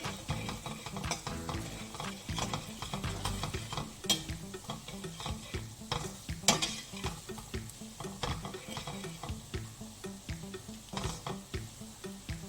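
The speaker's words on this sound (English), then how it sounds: "Cook all the spices roughly for 1 minute" Chili powder, coriander powder and salt cook and get stirred in a pan for a palak paneer curry, giving a steady close sizzle with repeated scraping strokes of a spoon throughout, no voices.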